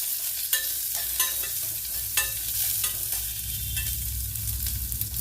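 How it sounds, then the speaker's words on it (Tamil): Bitter gourd sautés in a pan, a steady close sizzle with soft periodic stirring scrapes about once a second, and no talking. "அந்த பாவக்காவையும் இதில் நம்ம ஆட் பண்ணிடலாம். ஆட் பண்ணி திருப்பியும் ஒரு வதக்கிடலாம்"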